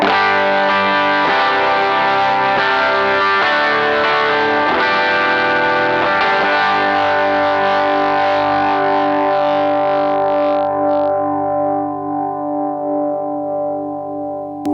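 Overdriven electric guitar through a MESA CabClone cabinet simulator with a bright, gritty bridge-pickup tone, chords ringing out with long sustain, loud and alone.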